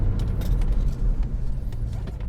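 A Ford Mustang Mach 1 with disc brakes slowing from about 40 mph, a steady low rumble of engine and road noise inside the car with faint rattles, no talk.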